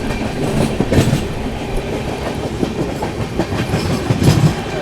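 Rajdhani Express on a foggy run overtaking another train: continuous clattering rumble of wheels over rail joints, heard from inside the coach, steady and fairly loud with rhythmic clickety-clack, no voices.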